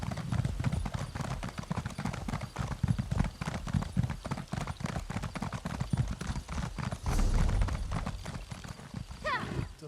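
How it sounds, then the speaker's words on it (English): Horse hooves clip-clopping steadily in Elder Scrolls Online, a continuous rhythmic patter of game footsteps with a brief whinny near the end, heard under someone talking. "Oh, she's got our own horse."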